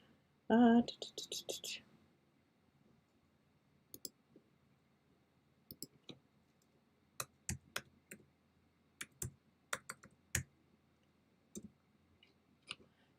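A password is typed on a computer keyboard: scattered, uneven key clicks, close and crisp against a quiet room, after a brief louder rustle at the start.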